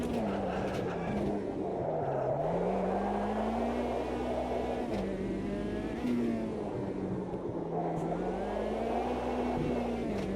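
Race car engine in the Automobilista 2 racing game, a steady droning whine that rises and falls with throttle changes, continuous and moderately loud with no talking.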